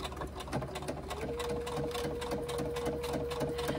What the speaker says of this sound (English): we do a 1/4 inch seam all the way down. I'm going to back stitch top and bottom.